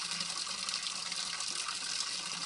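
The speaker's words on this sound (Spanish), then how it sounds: "Y vamos a llenar primero el agua para tener claro el punto de agua" Water gushes steadily from an outdoor drinking fountain into a bottle during a hot-weather trail run, a continuous bright hissing splash at moderate level with no talking over it.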